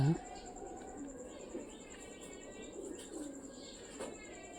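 Soft, low cooing from Giribaz pigeons continues over a steady outdoor background hum, fairly faint and close, with no speech.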